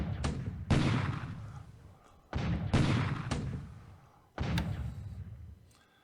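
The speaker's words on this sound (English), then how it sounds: "This is just an exploratory bombardment." Artillery bombardment in a turn-based WWII strategy video game set in 1942 China: three heavy, booming blasts a couple of seconds apart, each loud, broad and slowly fading into a rumbling tail.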